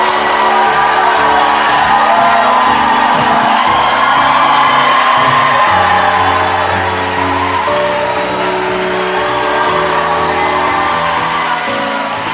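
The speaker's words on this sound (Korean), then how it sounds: "광주 시민들의 크나큰 박수로 시작하겠습니다" Crowd of Gwangju citizens at a live talk show taping, loud continuous applause with cheers and whoops, dense and close, with a sustained tonal hum underneath.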